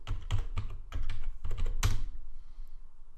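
Several close, distinct keystrokes tap out in quick bursts on a computer keyboard, ending with one harder final key press followed by quiet.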